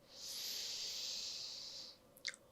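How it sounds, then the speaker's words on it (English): A single long, soft, breathy inhale before a chanted Om closes a morning yoga stretch session, quiet and close, ending with a faint brief rustle. "Inhale to chant, breathe in."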